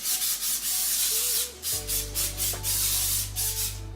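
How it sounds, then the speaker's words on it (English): Cooking spray hisses into a bundt pan while monkey bread is being prepared, coming in several short close bursts over a low kitchen hum, with no talking. "for our monkey bread, we're gonna use a bundt pan, any kind that you have. I wanna spray this really"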